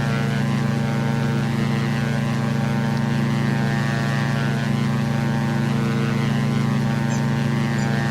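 A Diamond DA-62 twin-engine propeller aircraft in X-Plane 11 holds a loud, steady engine drone with a strong low hum and layered harmonics that stays unbroken throughout, no speech.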